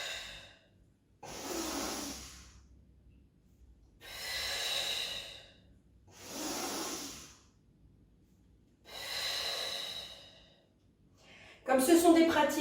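A person doing a yoga exercise breathes out in slow, steady breaths, five long airy exhales at an even rhythm with pauses between them, heard close by in a quiet room.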